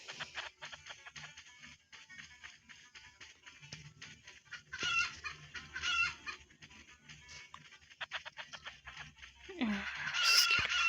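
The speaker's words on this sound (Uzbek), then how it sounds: "Endi biz tovuqni tutishga harakat qilamiz" Chickens being chased give scattered clucks and sharp squawks, growing louder in bursts toward the end, with rustling and footsteps and some voices in the background.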